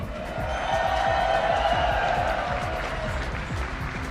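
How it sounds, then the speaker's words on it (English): A crowd at a fighting-game grand finals roars and applauds in a dense, sustained wash of cheering and clapping that stays loud and steady throughout. "Ladies and gentlemen in the crowd, can I get some noise made for grand finals about to come up?"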